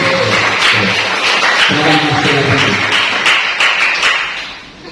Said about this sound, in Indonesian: biar semangat, tepuk tangan untuk Mas Tri Arifin.